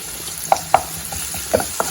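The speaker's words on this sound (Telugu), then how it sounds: "బాగా ఫ్రై అవ్వాలి." Turmeric and ginger garlic paste frying with tomatoes in a pan, a soft steady sizzle broken by a few sharp clinks of a spoon stirring against the pan.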